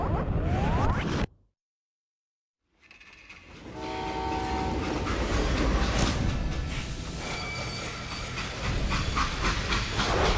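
A freight train runs in the Western video game Call of Juarez: Gunslinger. A loud rumble and hiss come in after a short silent break, with a sustained horn-like tone and a steady rolling mechanical roar.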